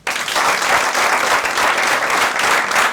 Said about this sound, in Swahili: Wapi makofi yao?